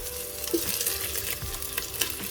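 A kilo of chicken pieces frying over high heat in a pan, giving a steady, loud sizzle with occasional stirring scrapes and no talking.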